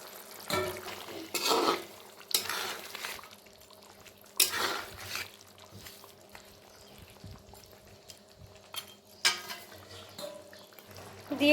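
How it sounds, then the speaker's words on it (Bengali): Pieces of fried koi fish slide into a boiling Bengali tel koi fish curry gravy, making several sharp splashy sizzling bursts over a low steady bubbling, with occasional clinks of utensils against the pot. "ঝোল ফুটে উঠেছে। এখন আমি এর মধ্যে ভেজে রাখা কই মাছগুলোকে ছেড়ে দিলাম।"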